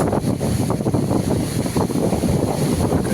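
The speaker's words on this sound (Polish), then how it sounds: "wiatr wieje" Strong wind blows steadily and loudly on a trail near a waterfall at Bad Harzburg, Germany, buffeting the microphone with a constant roar and rumble throughout.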